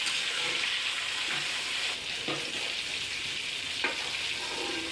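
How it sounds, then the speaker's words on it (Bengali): Rohu fish frying in oil in a wok, a loud dense hiss of sizzling fat that holds steady throughout, with a few brief scrapes as the pieces are moved. "এক পিঠ আমার মাছগুলো ভাজা হয়ে গেছে, আমি অপর পিঠটা ভেজে নেব।"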